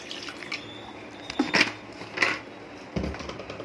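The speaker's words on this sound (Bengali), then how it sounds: "আমি একটু জল দিয়ে এটাকে আগে ধুয়ে নিচ্ছি, যেহেতু ভিনিগারটা দিয়েছি সেই জন্য আমি একবার এখানে ভালো করে ধুয়ে নিচ্ছি ছানাটাকে।" Fresh chhana curdled with vinegar being rinsed with water in a kitchen while making malai sandesh: scattered soft drips and splashes with a few light clinks of a utensil, fairly faint and close.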